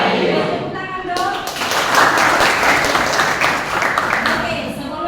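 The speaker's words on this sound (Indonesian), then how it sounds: "Tepuk tangan dong." A class of children claps together for a few seconds, a dense patter of hands following a teacher's voice in a classroom.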